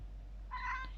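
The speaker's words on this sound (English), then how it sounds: "But your cat mews at you, right?" A domestic cat gives a single short, mid-pitched meow, fairly clear against a quiet room with low background hum.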